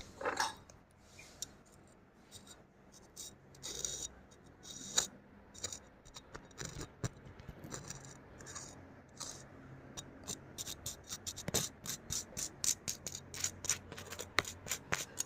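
Quiet, close scratchy crunching and scraping as a knife saws through crispy milk toast, the strokes quickening into a rapid rhythm toward the end.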